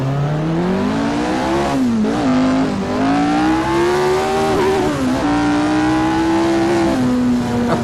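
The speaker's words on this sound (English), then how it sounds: "Very good engine sound here in Assetto Corsa" A Lotus 49 race car engine in Assetto Corsa revs loud and close, its buzzing tone rising and falling with throttle blips and short dips. No voices are heard over it.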